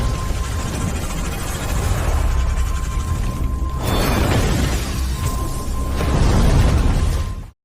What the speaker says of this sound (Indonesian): sebuah ledakan terjadi